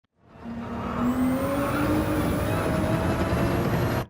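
A Ferrari 296 at full throttle on Yas Marina Circuit in a racing game, its engine a steady, loud, rising whine that climbs in pitch and holds for several seconds before cutting off abruptly.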